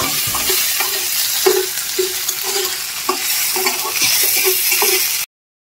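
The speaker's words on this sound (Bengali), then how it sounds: "দিয়ে ভালো করে নাড়িয়ে নেব" Chopped tomatoes and ginger are stirred in a frying pan: a spatula scrapes in regular strokes over a steady sizzle, close and fairly loud, before the sound cuts off abruptly.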